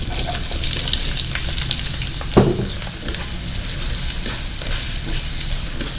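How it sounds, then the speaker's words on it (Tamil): Sliced onions, about 300 grams cut into large pieces, sautéing in a pan for a paneer gravy, a steady broadband sizzle and crackle of frying with a brief stirring clatter partway through. "இந்த வெங்காயம் கொஞ்சம் வதங்கணும்."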